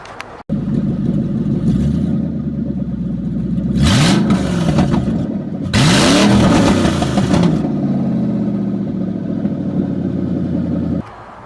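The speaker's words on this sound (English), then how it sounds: "before and after sound for the exhaust system" Ford Mustang with a straight-piped exhaust, a BBK off-road X-pipe with the catalytic converter deleted, idling loudly up close, then two sharp throttle revs rising and falling before it settles back to a steady, rough idle and cuts off.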